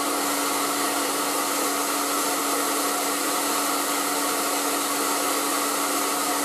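An ETI Professional Turbodryer 2000 hair dryer blows steadily at full power, a constant loud airy roar with a faint tonal hum, with no pauses.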